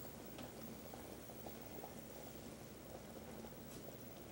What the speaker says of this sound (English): Boil that rice.